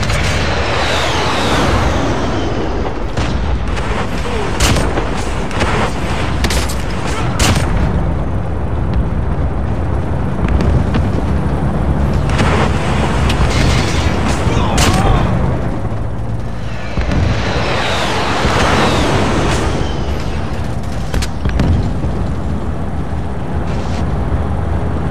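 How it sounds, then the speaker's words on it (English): Sky Carrier artillery in Call of Duty Mobile fires with loud, dense blasts and rumbling explosions, sharp impacts repeating over a constant roar of battle. "Sky Carrier artillery is preparing to fire."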